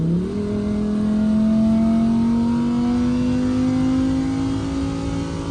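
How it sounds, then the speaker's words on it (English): A Lamborghini Huracan Evo engine, its exhaust valves open, drones in a loud steady tone that rises slowly as the revs climb, heard close with no talk. "I'm gonna open up the valves so you can hear the engine."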